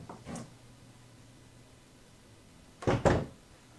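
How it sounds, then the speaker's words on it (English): An adjustable door closer set to its fastest speed lets a door swing shut, ending in two close, solid thumps of the latch and frame after a quiet stretch with faint room hum. "you can actually play with the door while you're adjusting this, and you can kind of gauge the speed live"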